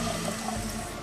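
Water, about one and a half cups, pours into a cooking pan for taco lasagna, a brief steady splashing gush heard up close.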